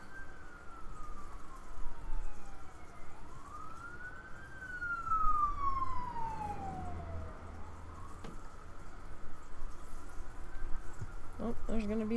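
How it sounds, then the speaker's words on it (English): Emergency sirens wail and sweep up and down as vehicles pass at a distance outdoors near a children's zoo, rising and fading over several cycles against background noise, with no speech. "There's gonna be some sirens in a minute."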